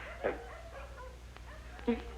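Several dogs whimper and yip excitedly in short bursts, a couple of sharper cries standing out, while people talk nearby in an indoor scene.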